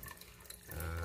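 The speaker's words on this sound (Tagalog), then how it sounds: "Ngayon lumakas na po yung tulo." Water trickles and drips from the siphon of a small DIY aquaponics setup holding goldfish below and basil and fortune plant above, a faint close splashing that swells into a steadier, stronger flow in the final moments.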